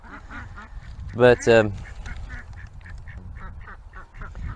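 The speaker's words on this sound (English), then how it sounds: "Drake's chasing a duck hen" A drake duck chasing a hen gives a loud pair of honking quacks, with softer quacks and calls scattered before and after, outdoors on a farm; a person briefly speaks.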